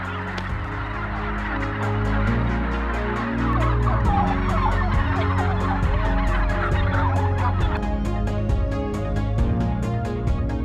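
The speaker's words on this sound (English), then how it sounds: "imported breeds like the broad-breasted white and bronze turkeys from the US and Canada" Broad-breasted white and bronze turkeys gobble in a dense, continuous flock chorus, many birds calling over one another at close range for the whole stretch.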